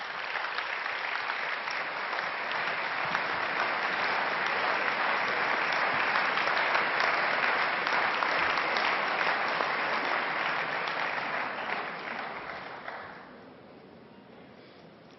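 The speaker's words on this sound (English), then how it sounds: "give him a big round of applause for Petro Poroshenko!" A large audience at a political party congress breaks into sustained, dense applause that holds steady for about twelve seconds before fading away.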